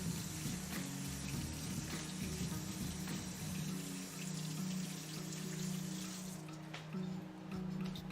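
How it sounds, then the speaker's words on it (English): Tap water runs steadily into a sink while hands are washed, a faint continuous splash that lasts several seconds before easing off. "I'm just going to wash my hands."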